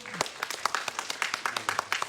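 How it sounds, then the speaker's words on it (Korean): Quick bursts of clapping from a small cinema talk audience, irregular and fairly close, mixed with people talking over it. "박수 한번 아이고 부탁드리겠습니다"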